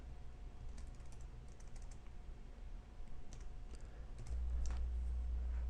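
Keystrokes on a computer keyboard while code is typed to rewrite a factorial function, a quiet, steady patter of irregular clicks heard up close without any talk.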